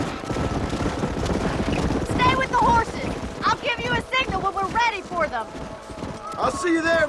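Hooves clip-clop at a quick pace from horses in the Red Dead Redemption game, steady and fairly loud beneath voices and tonal game sounds.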